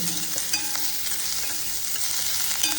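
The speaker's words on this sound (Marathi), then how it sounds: "मस्तपैकी आपण कांदा भाजून घेऊया." Lengthwise-sliced onion roasting in a pan, a dense steady sizzle with occasional stirring scrapes, close and fairly loud with no voices.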